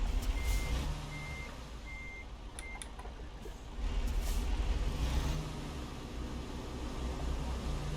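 Reversing beeps from a truck in American Truck Simulator, a steady evenly spaced series of short high tones over a loud diesel engine rumble with a brief air brake hiss.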